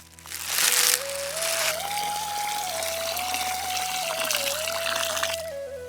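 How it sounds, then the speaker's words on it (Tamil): Water pours steadily into a vessel of rice for biryani being soaked, starting with a loud gush that settles into a continuous close filling sound with a rising tone for several seconds. "பிரியாணிக்காக 2 படி அரிசி எடுத்து அதில் தண்ணி ஊற்றி ஊற வச்சுக்கலாம்."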